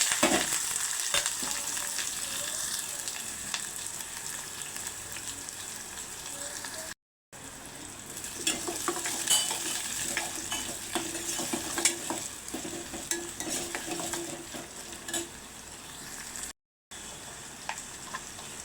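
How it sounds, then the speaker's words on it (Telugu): Onions frying in hot oil with mustard seeds and cumin for an egg pulusu, a steady close sizzle with frequent stirring scrapes running throughout, broken by two brief silent gaps. "ఆవాలు జీలకర్ర కొంచెం వేగిన తర్వాత ఆనియన్స్ వేసుకోవాలి"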